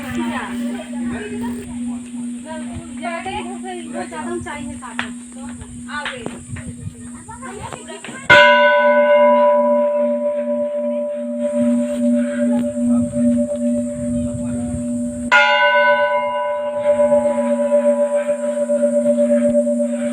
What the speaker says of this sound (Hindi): घंटे की आवाज़ ज़बरदस्त तरीके से आपको मिलेगी। बड़ा सा घंटा लगा हुआ है।